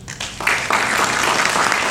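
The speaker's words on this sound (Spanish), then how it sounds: "Este señor merece un fuerte aplauso." A crowd breaks into loud, sustained applause that quickly swells and keeps going.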